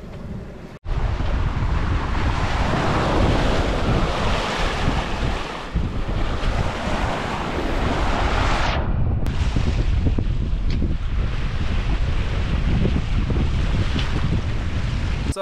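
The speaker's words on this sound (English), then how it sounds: "we're on an awesome downwind sail, wing on wing, which doesn't happen very often, and calm conditions" A sailboat running downwind wing on wing off Sardinia in calm conditions, with steady broadband wind rush across the microphone and the wash of waves along the hull, loud and continuous with no talk.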